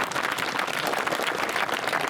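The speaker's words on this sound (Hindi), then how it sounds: "इन सब के लिए जोरदार ताली बजाएं।" Dense, steady applause from a large outdoor crowd at a political rally near the India–Pakistan border, a continuous wash of many hands clapping at even loudness throughout.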